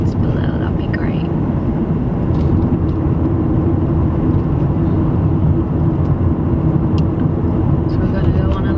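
Car driving around Manchester, its engine and road noise forming a steady, loud interior rumble that holds evenly from start to finish with no breaks.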